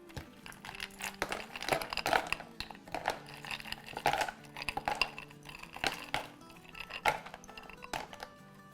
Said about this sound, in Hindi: और ढेर सारा बर्फ, ढेर सारा, पूरी दुनिया जहां का बर्फ, जितना जगह है बर्तन में,